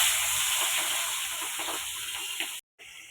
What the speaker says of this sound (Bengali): আমি চিংড়ি মাছটা ফ্রাই করে নেব।